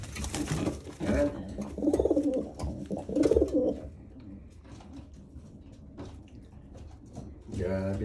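Pigeons kept as breeders coo in low, rounded bursts around the middle of the stretch, with handling noises and a person talking nearby.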